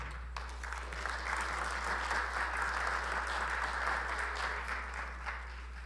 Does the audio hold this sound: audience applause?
yes